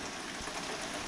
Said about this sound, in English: as you can see it is raining now